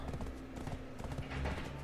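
Horse hooves clip-clop steadily in Black Desert Online as a level 6 horse is ridden, with a continuous rhythmic trot heard close up and no talking.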